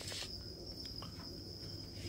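Thai yellow crickets chirp inside a farm cage, a steady high-pitched trill running continuously, faint and close, with a few soft clicks and rustles underneath and no talk.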